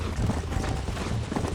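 Horse hooves clip-clopping in Red Dead Redemption 2 during a chase to rope a horse, a steady close patter of hoofbeats mixed with rumbling game ambience, with no one talking.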